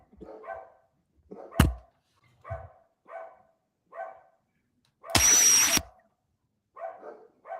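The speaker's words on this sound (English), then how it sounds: "It's not working because they're still barking." Repeated barks ring out at a steady, spaced rhythm, with a sharp knock and a loud burst of power-tool whine breaking in midway.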